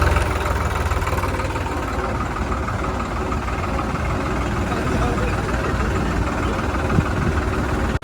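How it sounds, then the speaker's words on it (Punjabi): Many tractors idle together on a road during a farmers' union rally, producing a steady, dense low engine rumble that continues evenly throughout with no pauses. "ਕਿਸਾਨ ਭਰਾਵਾਂ ਨੇ ਟਰੈਕਟਰਾਂ ਦਾ ਲਿਆਦਾ ਹੜ ਰੋਡ ਦੇ ਉੱਤੇ ਦੇਖੋ"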